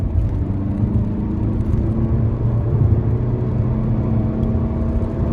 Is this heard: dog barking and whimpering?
no